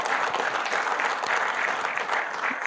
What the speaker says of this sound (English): You should give him a round of applause.